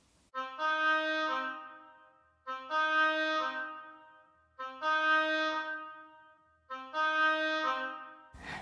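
An oboe plays four clear, sustained phrases with pauses between them, each note bright and reedy, heard alone and close without any talking.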